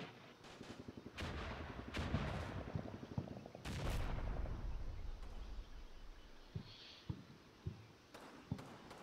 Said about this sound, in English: we're taking fire from down there